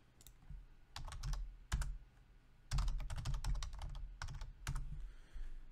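Keys clatter on a computer keyboard in uneven bursts of quick taps separated by short pauses, close and fairly quiet, with no voices.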